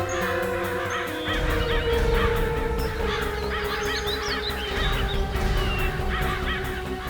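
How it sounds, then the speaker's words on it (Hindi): Many crows over water in a jungle setting give repeated harsh caws and squawks at moderate distance, layered over a steady low hum and background noise, with no speech. "वहाँ थोड़ा पानी दिख रहा है और बहुत सारे कौवे भी मंडरा रहे हैं।"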